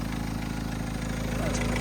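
A Golf diesel car engine idles steadily with a continuous low rumble and even mechanical hum throughout, loud and close, with a faint voice in the background.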